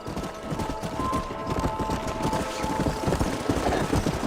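Horses' hooves clip-clopping in Red Dead Redemption, a busy, uneven patter of several hooves on the ground, moderately close, mixed with faint background game ambience.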